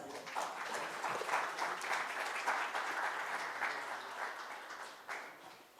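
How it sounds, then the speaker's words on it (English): Audience applause at a panel discussion on tariffs, a dense, moderately distant wash of clapping that holds steady and tapers slightly toward the end. "A round of applause."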